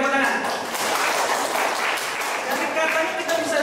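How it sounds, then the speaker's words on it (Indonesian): A university class gives steady group applause for a student's correct answer. The hand clapping is dense and sustained, with a lecturer's voice briefly over it. "Berikan tepuk tangan."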